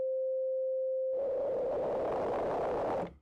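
A synthesizer's pure sine oscillator holds a steady, clean tone for about a second, then pink noise routed through the mod matrix to oscillator 1's semitone pitch turns it into a rough, jittery, noisy warble that cuts off abruptly.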